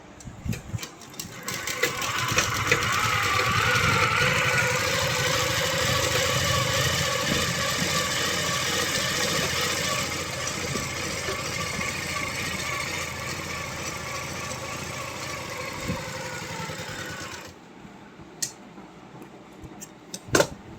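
A sewing machine stitches cloth in one long, steady mechanical run of rapid needle strokes, loud and close, before stopping abruptly near the end with a few clicks after.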